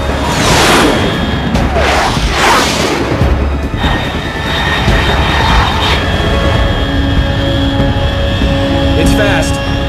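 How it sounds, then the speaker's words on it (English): Fast jet aircraft in Metal Gear Solid 3, loud sweeping whooshes and a sustained engine roar passing overhead amid rumbling booms, with a voice talking over the sound. "Unidentified aircraft detected."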